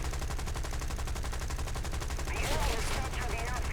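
Rapid 20mm cannon fire from a Spitfire Mark II in War Thunder, a steady stream of loud rounds throughout, with engine roar and some crackle of hits near the end.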